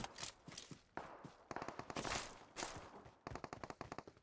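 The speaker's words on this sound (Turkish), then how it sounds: "Şurada ateş sesleri duydum ama görünmüyor" Bursts of automatic gunfire from PUBG Mobile, several rapid volleys separated by brief pauses, loud and sharp, mixed with quieter distant shots.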